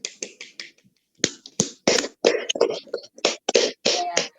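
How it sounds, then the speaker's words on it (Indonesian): Classroom applause for a pupil who answered correctly, heard as a short burst of close, uneven clapping with brief pauses, alone with no talk. "Ayo beri tepuk tangan untuk Mas Alam"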